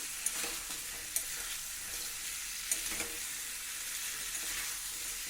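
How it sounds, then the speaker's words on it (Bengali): Potato and drumstick pieces sizzle in frying spice masala, a steady, fairly quiet hiss with a few soft stirring knocks. "দিয়ে মশলার সাথে সব একসঙ্গে ভালো করে একবার নাড়াচাড়া করে নেব"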